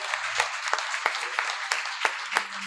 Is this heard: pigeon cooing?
no